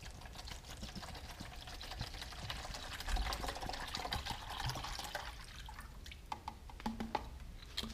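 Water from a container pours into a Bear Bowl camping cook pot, a steady trickling and splashing stream that fills it partway, close by and fairly quiet, with the flow thinning near the end.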